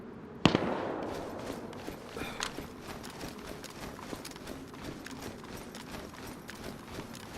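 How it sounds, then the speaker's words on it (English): A distant SKS rifle shot in the DayZ game, a single sharp crack followed by a few fainter scattered pops over a low background rumble. "Yeah, SKSs. They're shooting at something."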